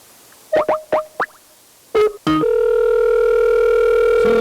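An old-style telephone handset gives several short beeps of dialing tones, then a brief pause, a couple more tones, and finally a long steady tone that holds to the end, loud and close.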